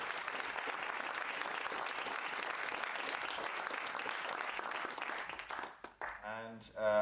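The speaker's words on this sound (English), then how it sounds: "I'd like to basically give a round of applause to all of you and to our panel" Audience applause for a panel at the close of a cleantech financing event, a dense burst of clapping that fades out near the end as a voice begins speaking.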